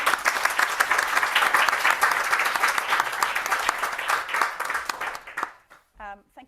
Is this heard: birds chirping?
no